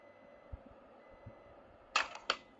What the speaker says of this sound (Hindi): बीप बीप जो आवाज आ रही है वो सीट बेल्ट की है।